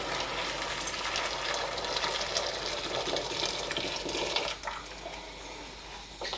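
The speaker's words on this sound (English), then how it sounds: "just going to pour some water in the pan" Water pours into a pan in a steady rushing stream for about four seconds, then cuts off, leaving quieter trickling.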